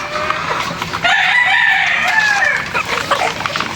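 A bulik rooster, a young male with a straight or pea comb, crows loudly and close in one long drawn-out call over a rough, noisy farmyard background.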